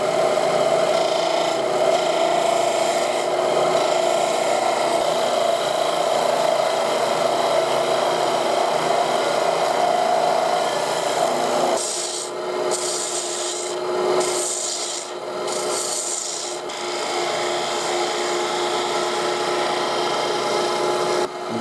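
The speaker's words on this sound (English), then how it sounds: "And we just use our spindle gouge for doing that." A spindle gouge cutting a spinning wooden piece on a lathe for a children's percussion instrument: a steady, close scraping rasp over the motor hum, then a series of short, choppy cuts toward the end.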